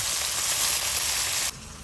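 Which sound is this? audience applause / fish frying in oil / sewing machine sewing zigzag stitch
fish frying in oil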